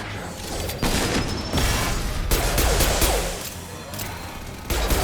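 Gunfire rattles in Mass Effect 2 in repeated loud bursts of rapid shots with mechanical clatter between them, close and continuous across several seconds.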